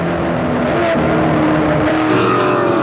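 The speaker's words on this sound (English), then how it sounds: "Listen to the throttle work." A loud NASCAR race car engine at the 2008 Coke Zero 200 drones continuously up close, its throttle pitch wavering and shifting as the driver feathers the throttle through a turn in the high lane.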